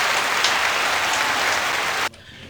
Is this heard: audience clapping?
yes